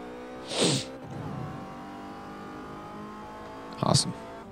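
Car engine revving and racing past in Forza Motorsport 4, two sharp loud roars with tire noise about three seconds apart over a steady engine hum.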